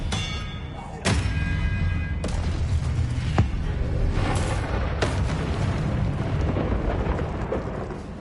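Confringo blasting spell in Hogwarts Legacy erupting in a few sharp booming blasts amid ongoing rumbling combat noise, with a voice talking over the fight.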